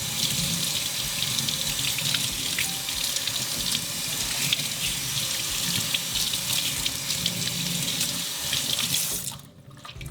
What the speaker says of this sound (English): Now that the conditioner's all rinsed out, we're gonna let this piece dry naturally.